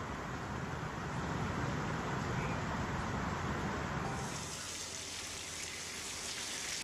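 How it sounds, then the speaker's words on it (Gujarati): Heavy rain pours down in a dense, steady hiss on surfaces, easing slightly partway through, with no voices, during a thunderstorm in Dwarka. "દ્વારકામાં ગાજવીજ સાથે મુશળધાર વરસાદ પડ્યો"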